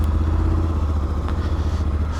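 A Voge 800 Rally motorcycle, a 2026 model with an inline four-stroke engine, pulls away in first gear, its steady low engine drone close and loud, with a brief mechanical clatter partway through.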